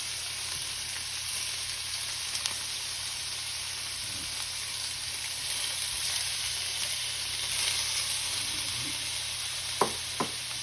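Shrimp frying in melted butter in a pan, a steady, even sizzle that carries on throughout, with a couple of sharp clinks near the end.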